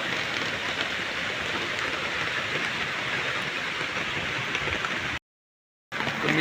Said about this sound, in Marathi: पाऊस अजून वाढतो आहे जोरात